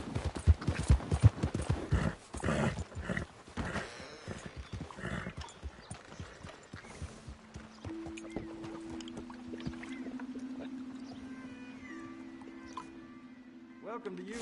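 Horse hooves clip-clop in a Red Dead Redemption 2 game scene, a run of quick, soft hoofbeats in the opening seconds that fades out, followed by quiet ambient tones.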